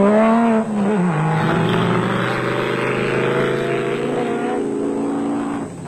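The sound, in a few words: off-road race trucks driving, Castrol Toyota Land Cruiser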